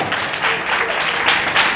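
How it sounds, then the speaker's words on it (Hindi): Church congregation clapping together in a short, steady burst of applause at a Ludhiana worship service, dense and even throughout with no talk over it. "परमेश्वर की वायदा के वचन का क्यों ना हम ताली बजा के हम धन्यवाद करें"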